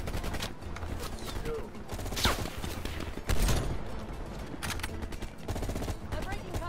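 Dense rapid gunfire and explosions crackle through a Black Ops Cold War campaign battle, nearly continuous and loud, with shouted voices mixed in.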